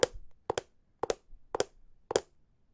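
Pairs of hard-soled shoes are knocked together to imitate footsteps, giving five crisp heel-then-toe double clacks in a steady walking rhythm, close and dry with no talking.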